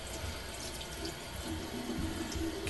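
Running tap water pours steadily at a sink as hair is rinsed, a close, continuous splashing wash with no voices.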